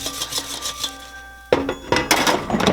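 Sweet potato fries shaken in an air fryer basket, a rattling, rubbing clatter of fries against the metal basket, close and fairly loud, with a short beep-like hum before the shake.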